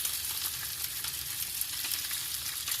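Bacon fries in a pan on a stove inside a minivan camper on a windy day, a dense steady crackling sizzle, close and fairly loud, with no talking.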